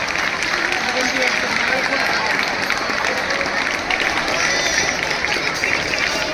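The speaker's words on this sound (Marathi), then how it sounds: "जोपर्यंत स्टेजचं पूजन चाललंय तोपर्यंत टाळ्या वाजवत राहा. बघूया टाळ्या किती जोरात वाजतात." An audience claps continuously during a stage worship ceremony, a dense, even wash of applause with crowd noise and voices mixed in.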